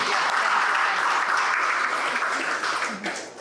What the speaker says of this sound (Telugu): మరి ఆవిడ గట్టిగా చప్పట్లతో అభినందనలు